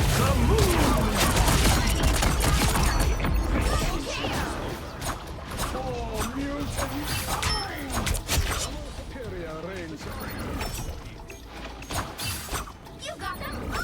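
Weapon fire and ability effects during a Marvel Rivals match, with dense mechanical clatter, rapid bursts and whooshing tones forming a loud, busy mix under talk.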